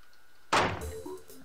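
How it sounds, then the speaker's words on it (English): A microwave door wrenched free in the game Steins;Gate: one loud, sudden thunking crack with a scraping screech trailing after it, the sound standing alone. "tearing the microwave door free with a terrible screech"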